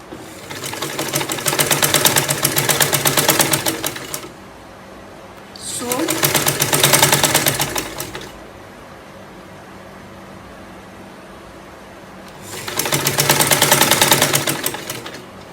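A sewing machine stitches crinoline onto peplum fabric and lining in three loud, close bursts of rapid even whirring, separated by quiet pauses.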